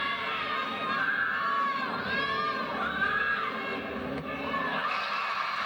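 Energetic crowd at a women's gymnastics meet, Arkansas vs Oklahoma, at Lloyd Noble Center, a dense sustained roar of cheering and shouting voices filling the arena, steady and loud throughout.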